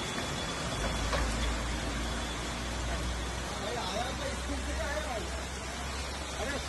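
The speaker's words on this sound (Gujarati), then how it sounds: "અમદાવાદમાં વરસાદની એન્ટ્રી" Rain falling in Ahmedabad, a steady hiss of drops on surfaces mixed with distant traffic and faint background murmur, constant and even throughout.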